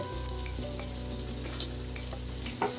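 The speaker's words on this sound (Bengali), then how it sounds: "দিয়ে তেলে নাড়াচাড়া করে ভেজে নেবো এক দু সেকেন্ড খুব বেশি ভাজবো না" Green chili, garlic and grated ginger frying in hot oil, giving a steady, close, even sizzle with a faint hum underneath and a few light stirring clicks near the end.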